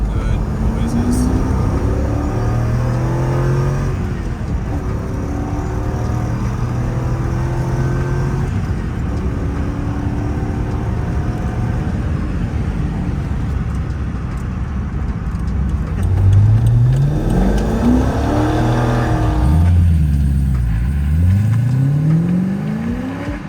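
A Corvette Callaway C12 engine drones steadily from inside the car while driving, then climbs in pitch as it accelerates through gears toward the end, loud and continuous.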